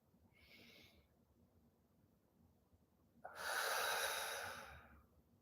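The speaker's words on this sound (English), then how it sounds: "Take a deep breath in." A slow, deep breath drawn in during a guided breathing session, preceded by a brief soft airy sound, then a long, loud inhale of about two seconds, close and alone in a quiet room.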